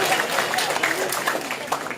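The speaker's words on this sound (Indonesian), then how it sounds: "tepuk tangan dong" Applause from an audience at an outdoor groundbreaking ceremony in Batam, a steady crowd clapping over the whole stretch with some voices mixed in.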